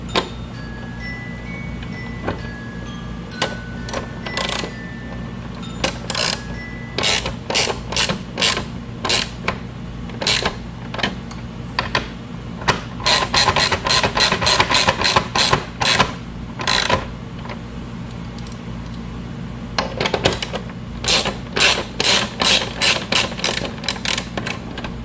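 Fairing bolts are snugged on a Kawasaki Vulcan VN1700 with a ratchet, which clicks in rapid bursts of repeated ticks separated by short pauses, close and distinct over a low steady hum.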